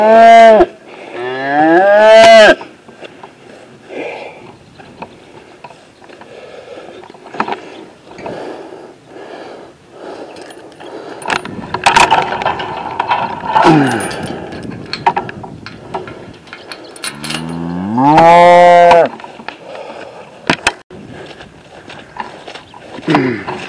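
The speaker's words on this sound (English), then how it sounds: "now I gotta get his cattle sequestered into his pen" Cattle moo loudly and close by, several drawn-out calls in bursts at the start and near the end, as the herd is moved on foot during a round-up, with quieter shuffling and outdoor noise between the calls.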